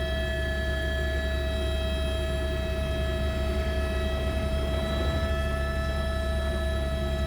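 A bush helicopter flies in the wilderness with a steady, loud, droning engine and rotor whine that holds even and unbroken throughout, with nothing else heard over it.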